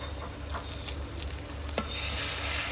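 A bunch of curry leaves dropped into hot oil for a fish curry, crackling and sizzling as a dense, close hiss with light spattering that swells louder toward the end.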